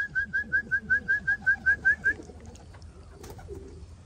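Racing pigeons call near their loft, a run of about ten evenly spaced, clear repeated notes lasting two seconds and then stopping, leaving quiet outdoor background.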